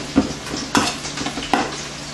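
Shredded cheese for lasagna is mixed with a utensil in a bowl: three distinct scraping strokes, each with a soft clink, close and fairly quiet, with no talking.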